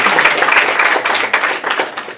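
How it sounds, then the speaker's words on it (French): An audience applauds a speaker at a platform launch event: close, crisp hand claps in a fairly small crowd, irregular and steady throughout, with no voices over it. "On peut l'applaudir s'il vous plaît."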